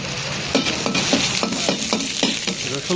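Garlic sizzles in hot oil in a pan for beef stir fry, a continuous loud frying hiss with a series of sharp scrapes and taps from a utensil stirring against the pan.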